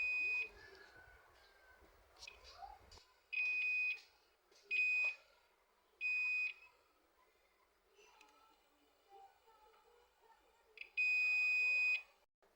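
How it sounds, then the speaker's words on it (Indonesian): Buzzer of a Multigun4 tester beeping during a capacitor check, five short, loud, steady electronic tones spaced apart, the last one longer, over faint background clatter. "Jika suaranya itu besar semua untuk suara buzzernya, berarti kapasitornya short ya."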